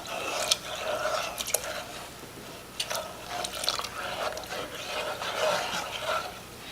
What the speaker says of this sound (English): Make sure you keep this stirring.